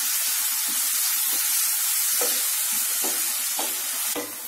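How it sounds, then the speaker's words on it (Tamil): Finely chopped onions sautéing in a pan for potato gravy, with a steady close sizzle and occasional soft scrapes of stirring throughout. "வெங்காயம் நல்லா கண்ணாடி மாதிரி அளவுக்கு வதக்கிடுங்க."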